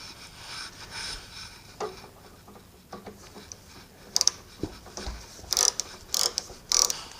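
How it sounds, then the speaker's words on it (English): A ratchet with an extension and a 13mm socket works the oil drain plug loose on a 2014 Dodge Durango 5.7L Hemi. Quiet mechanical rubbing gives way to a few sharp, close clicks near the end. "to remove the oil drain plug, I would recommend a ratchet, an extension, and a 13mm socket"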